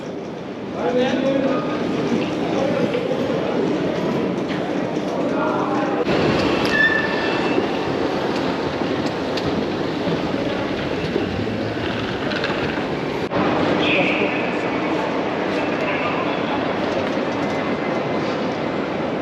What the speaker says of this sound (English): bienvenue at Gare du Nord